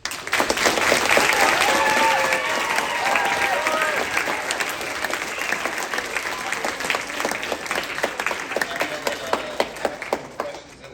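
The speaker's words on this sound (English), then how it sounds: "Can we give them a round of applause?" A school audience at Wasatch Charter School applauds in a loud, sustained burst of many hands clapping, with excited voices and cheers mixed in, gradually thinning toward the end.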